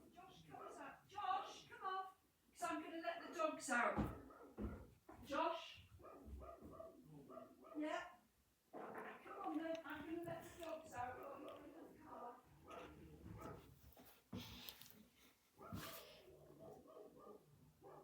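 Dogs bark and whimper in short, scattered bursts at home, mixed in among people talking nearby.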